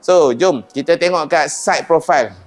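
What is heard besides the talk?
No distinct noise like a dog, phone or traffic.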